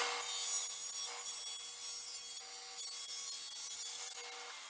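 Thin sliver of wood being cut for a wooden soccer ball trophy, a faint, steady scraping hiss of blade on wood, close and continuous.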